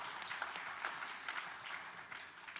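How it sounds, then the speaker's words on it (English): Steady applause from a conference crowd, a dense wash of clapping that holds at an even level throughout, with no voices standing out. "I think one more round of applause."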